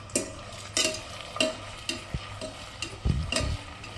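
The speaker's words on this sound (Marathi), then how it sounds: "आता आपल्याला या उभा चिरलेला कांदा यात घालून घ्यायचा आहे आणि हा कांदा आपल्याला लालसर रंगावर तळून घ्यायचा आहे।" Sliced onion frying in hot oil, a low steady sizzle broken by several sharp scrapes and clinks of a spatula stirring against the pan, heard up close with no talking.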